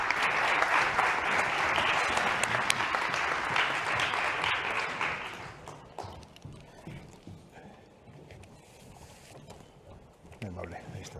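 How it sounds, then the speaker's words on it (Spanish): An audience applauds a speaker at a talk, with dense clapping for about five seconds that then fades into scattered claps and room murmur. "Un aplauso para él."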